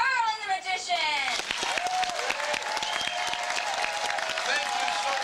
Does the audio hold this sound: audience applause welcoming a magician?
yes